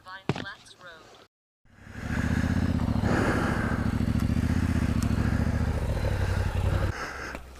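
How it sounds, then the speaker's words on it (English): A BMW motorcycle rumbles past on a rural road, its engine swelling from a gap of near-silence into a loud, steady roar for several seconds before easing off, with a voice briefly at the start. "I hear a BMW."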